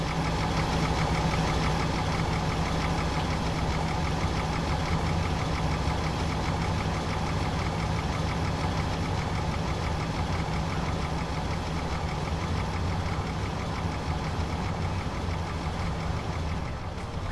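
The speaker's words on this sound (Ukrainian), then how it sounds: "Поїхали наші вантажівочки. Поїхали. Виїжджають по одній." Trucks pulling away one after another in the Transport Fever video game, a continuous mid-pitched engine drone with idling rumble, steady and even throughout with no speech.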